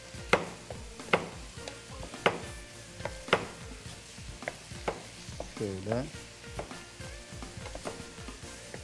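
Diced pumpkin sautés in a pan for Adapazarı-style pumpkin soup, sizzling steadily while a utensil knocks and scrapes at a regular beat, close and fairly quiet, with one brief spoken word.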